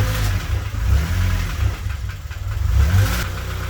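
A K-swapped Honda Civic engine runs on its first start after new heater pipes were fitted, giving a close, steady low rumble with slight rises and dips in revs throughout.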